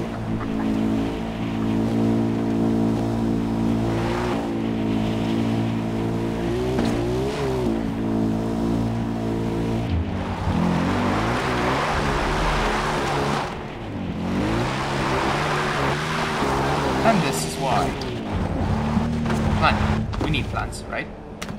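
A car drives along in the Far Cry 4 video game, its engine droning steadily with a tonal hum that rises and falls in pitch as it speeds up and eases off, continuous throughout.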